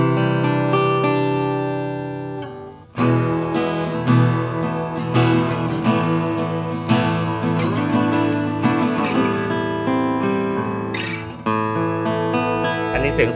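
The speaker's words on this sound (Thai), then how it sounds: "กิทำมาได้ดีมากๆนะครับกับเจ้าพาเลอร์ตัวนี้นะเสียงก็จะประมาณนี้เลย" A Kazuki Top Solid SOUL parlor acoustic guitar rings out with close, full strummed chords and picked notes. A short pause falls near the start, then playing continues steadily with no talking.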